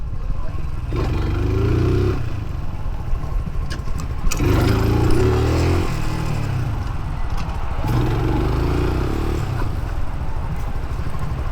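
A Tycorun Scrambler motorcycle engine drones close up during a ride, with a steady throbbing hum that swells into rising revs roughly every few seconds, mixed with wind rush.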